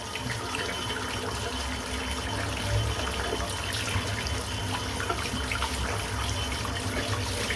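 Tap water running steadily into a sink while a shaving brush is rinsed under it, a continuous close splashing gush with small fluctuations as the brush moves through the stream.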